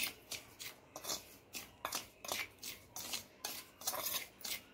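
Dry semolina, rice flour, red chilli powder and salt mixed in a bowl: a soft, rhythmic series of about a dozen scraping, rubbing strokes, faint and close, with no voices.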